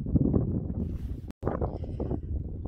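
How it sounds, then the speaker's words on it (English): Strong outdoor wind gusts buffet the microphone with low, rumbling roars that rise and fall, loud and close, with one brief dropout. "apart from the wind, so I'm really sorry, because it's very, very windy"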